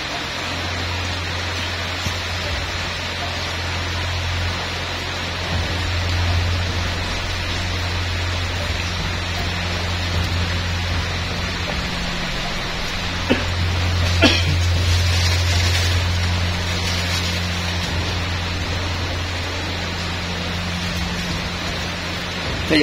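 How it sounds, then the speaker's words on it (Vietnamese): Heavy rain pours outside in a steady, dense hiss that runs unbroken throughout, with a low hum underneath and a few faint knocks; no one speaks. "ở ngoài hiện tại giờ đang rất là mưa lớn nha quý vị"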